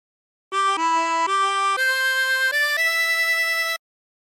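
A 24-hole tremolo harmonica plays a phrase of Yellow Rose of Texas: six steady, sustained reed notes changing pitch in a smooth run, bright and close, alone without talk, starting and stopping cleanly.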